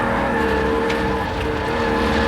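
Race car lifting off the throttle through a corner on a dirt-strewn track, a loud, continuous engine drone with steady harmonic tones heard from close by.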